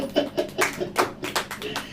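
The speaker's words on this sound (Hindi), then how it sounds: "ताली बजाइए" A church congregation claps during a sermon, a brief run of uneven, fairly close claps about two seconds long, with nobody speaking.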